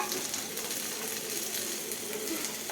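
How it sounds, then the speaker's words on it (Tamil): Shallots and garlic sautéing in a pan for poondu chutney give off a soft, steady sizzle, close by but fairly quiet throughout. "சின்ன உள்ளியையும் அப்படியே வதக்கி எடுத்துக்கலாம்."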